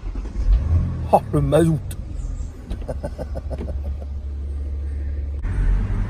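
A BMW 8 Series convertible, roof closed, gives a deep engine rumble under a brief spoken comment, then settles into a steady low idle with a short rise near the end.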